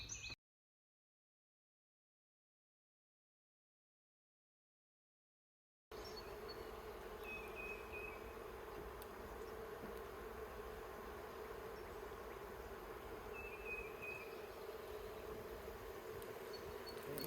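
Honey bees buzz as they are transferred into a new hive box, a steady soft drone after an initial silent gap, with faint higher whines of individual bees passing close.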